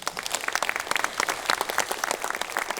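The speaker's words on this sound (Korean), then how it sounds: "설명하자 박수가 나옵니다." Dense applause from lawmakers at a Democratic Party general meeting, a steady wash of many hands clapping together at close range throughout.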